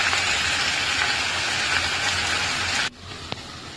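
Vegetable fried rice is stir-fried and mixed in a pan with a loud, steady sizzle. Near the end the sizzle cuts off abruptly and a single faint clink follows.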